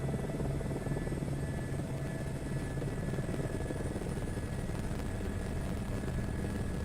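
A helicopter in Microsoft Flight Simulator 2024 at close to full takeoff power gives off a loud, steady rotor and turbine drone that holds evenly from start to finish with no voices.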